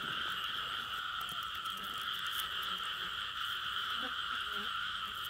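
A dense, steady chorus of frogs croaking in a field at night, a continuous high trilling wall that stays unbroken and fairly loud throughout, with faint low rustles underneath.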